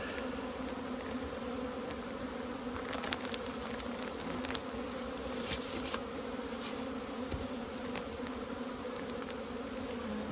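Honey bees of the Saskatraz strain drone steadily around spring hives being lifted and weighed in a bee yard, a dense, even buzz with occasional brief knocks from handling the boxes.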